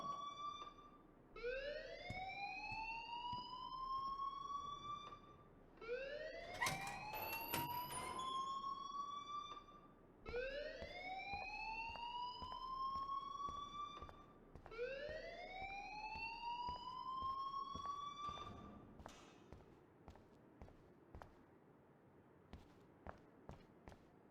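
Alarm blaring in the video game Life is Strange: a loud rising electronic whoop repeating four times in slow regular cycles, followed by faint footsteps and light knocks as it stops.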